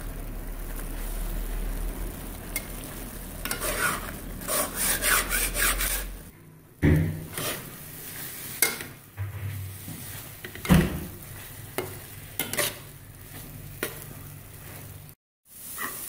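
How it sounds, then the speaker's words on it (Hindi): Grated carrot halwa roasting in ghee while a spoon stirs it continuously, producing repeated close scraping and rubbing strokes against the pan, with short pauses and a low sizzle underneath. "अब उतनी देर तक इसको भूनते रहना, इसी तरह चम्मच मुसलसल हिलाता रहना है"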